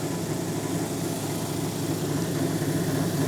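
An 80 grit grinding wheel shapes a thick Brazilian agate cabochon, giving a steady, loud, continuous whirring grind with no pauses and no talk.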